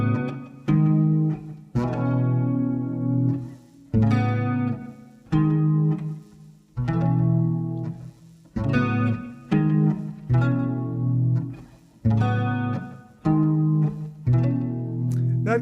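Electric guitar plays a Lydian intervallic motif, with about a dozen sustained, ringing note clusters struck in a steady rhythm and each left to decay. The tone is close and loud, with no talking.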